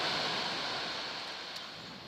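Mediterranean Sea waves wash onto the shore, a steady, moderately faint hiss of surf that slowly fades slightly, heard alone without talk.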